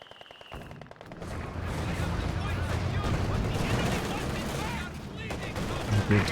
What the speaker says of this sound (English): Good first shot from the MG